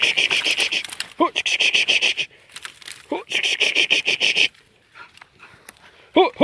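A hunting dog pants rapidly in loud bursts while being set on a tegu lizard, with whimpers and someone talking in between.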